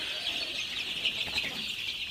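Sixteen-day-old Sonali super hybrid chicks peep in a dense, continuous chorus of high chirps, close and steady with no talking.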